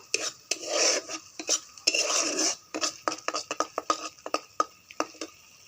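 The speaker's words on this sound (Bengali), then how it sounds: "মশলাকে একটু ভালো করে কষতে থাকবো।" A spoon stirs and scrapes spiced masala of chilli powder, salt and coriander-cumin powder in a pan, making close, uneven clinks and scrapes with soft sizzling bursts.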